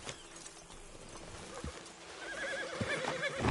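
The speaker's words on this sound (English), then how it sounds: "Load Anders onto the back of your horse there" Horse in the Red Dead Redemption 2 video game gives a clear neigh and whinny over a few steady clip-clop hoof steps, close and fairly loud in a quiet outdoor setting.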